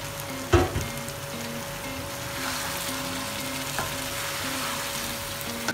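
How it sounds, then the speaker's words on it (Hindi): Boiled mutton dropped into hot oil with cooked garlic and ginger for achari gosht, giving a close, steady sizzle and frying hiss with a sharp burst as the meat goes in and occasional stirring clatter. "अब हम इसमें ये मटन शामिल कर देंगे जो हमने बॉईल किया था।"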